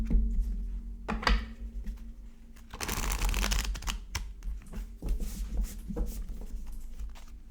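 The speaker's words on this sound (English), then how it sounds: "so let's do some oracle cards." Oracle cards being shuffled by hand at close range: a busy run of soft riffling, flicking and slapping card sounds, with one longer dense riffle in the middle, and no talk.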